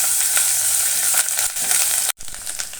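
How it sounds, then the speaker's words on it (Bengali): Ginger and garlic paste sizzles and fries in a pan for a Bengali lotpoti dish: a loud, steady crackling hiss with a brief sharp dropout near the end. "রসুন বাটা দিয়ে দিছি, এখন আদা বাটা দিয়ে একটু ভেজে নেব।"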